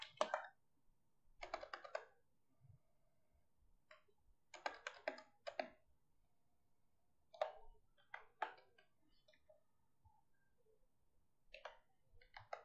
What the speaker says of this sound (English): Let me type this again.